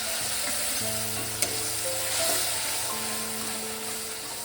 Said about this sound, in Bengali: দিয়ে একটু জল দিয়ে ভালো করে আমি মশলাটাকে কষিয়ে নেব